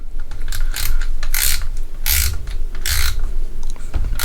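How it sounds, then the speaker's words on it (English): A Hercules 12V 3/8-inch cordless ratchet clicks through repeated ratcheting strokes, sharp close bursts of pawl clatter coming in an uneven rhythm, loud and alone without speech. "I like that ratcheting part."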